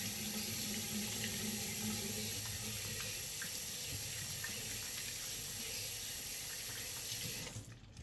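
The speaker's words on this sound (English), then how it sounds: "let me wash my hands again" Running tap water as hands are washed under a faucet, a steady close hiss and splash of water into a sink that continues unbroken, then cuts off at the end.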